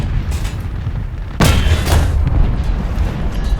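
An IKV-103 tank destroyer's cannon fires in War Thunder, a single loud, close boom with a sharp crack followed by a rolling, rumbling tail, set against a low engine drone.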